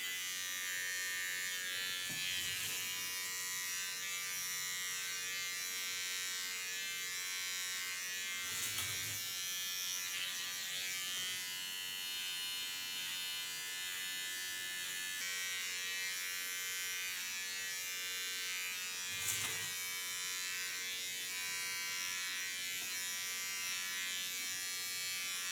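A small T.K.S. electric hair clipper buzzes steadily while trimming hair, a close, continuous motor drone with a few brief bumps in pitch and loudness as it moves through the hair.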